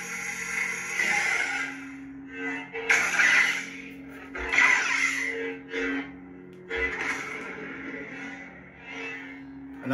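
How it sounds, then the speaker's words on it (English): Crackling, sizzling force lightning effect from a Sabertrio Vektra Neopixel lightsaber with CFX sound board, several surges over a steady low hum. "You're forced lightning if you hold down the auxiliary button."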